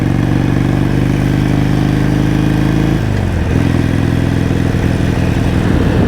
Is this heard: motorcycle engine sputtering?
yes